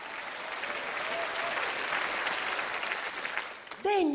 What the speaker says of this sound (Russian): Хлопай Иисусу Христу!